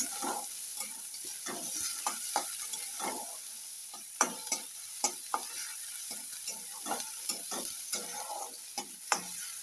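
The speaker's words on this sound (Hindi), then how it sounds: "तापरे पियाज को भाजीबा।" Onions frying in a pan for Odia-style corn upma, a soft continuous sizzle broken by sharp clicks of a spoon stirring against the pan, close and moderately loud.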